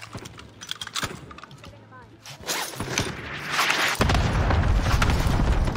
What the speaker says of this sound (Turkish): Onlar bomba, onlar da attı, biz de attık